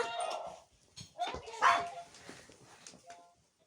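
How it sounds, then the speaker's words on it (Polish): A small dog barks and whimpers indoors, giving a few short yips and whines in a quick, uneven burst near the microphone, then trailing off into quiet. "jeśli chcecie, mogę wam pokazać mojego pieska"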